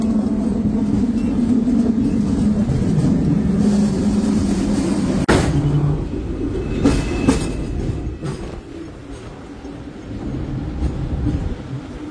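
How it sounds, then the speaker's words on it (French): A Hong Kong tram rolling along its tracks in Central, with steady rumbling wheel noise and rattling carriage sounds, a sharp clack partway through and occasional squeaks, heard from inside the moving car. "Et là, on est dans le tramway, les amis. Le tramway de Hong Kong."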